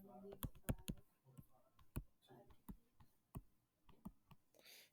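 Keys on a calculator are tapped in a quick run of sharp, dry clicks, close and fairly quiet, with a few spaced presses toward the end.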